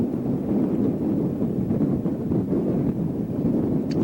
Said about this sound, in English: Cold, it's windy.